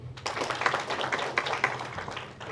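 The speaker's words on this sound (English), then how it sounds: "Another clap for her." Audience applause at a county plan launch event, a dense patter of many hands clapping at moderate volume, steady for a couple of seconds before tapering off.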